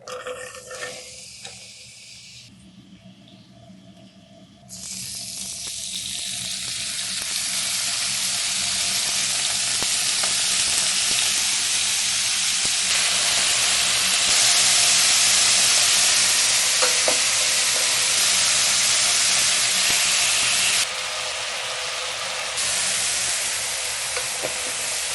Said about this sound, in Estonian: Panin õli põhja ja siia valan sibula ja porgandi praadima.